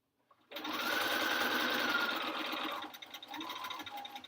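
A sewing machine runs steadily for about two seconds while stitching quilt blocks together, then pauses and gives a couple of shorter bursts. It sounds close and loud, with no talking.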